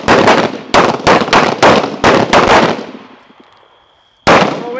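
Pistol shots fired in a rapid string during night shooting training on a range, about seven loud, sharp reports in quick succession, then a short lull and one more shot.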